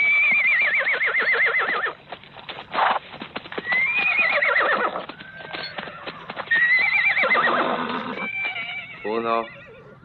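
Horses whinny repeatedly in loud, shrill neighs over a steady clip-clop of hooves, with a chaotic Western film scene of riders fleeing after horses are stolen, and voices shouting in the mix.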